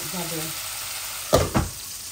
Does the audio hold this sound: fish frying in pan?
yes